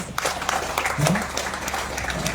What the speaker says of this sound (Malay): Kita bagi satu tepukan kepada beliau